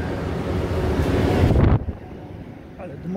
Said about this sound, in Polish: Ale dmucha.